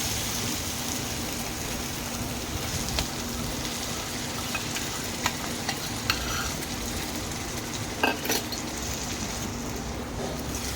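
Onion, tomato and mixed masala frying and being stirred in a pan for paneer bhurji, a steady close sizzle with scattered scraping and clinking of the spoon against the pan, no talk.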